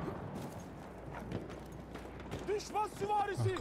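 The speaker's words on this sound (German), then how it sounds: "Ach, guck, ein Pferd." A horse in the World War I shooter Battlefield 1, its hooves clip-clopping in a rhythmic run with a snort or whinny near the end, under battlefield ambience and someone talking.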